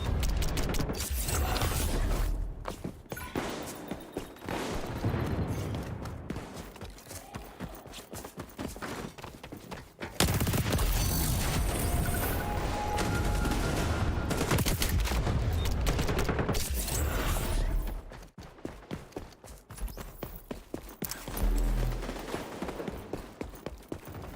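Gunfire in the shooter game XDefiant: dense bursts of automatic fire in long runs with brief gaps, loud and close, with mechanical clicks between volleys.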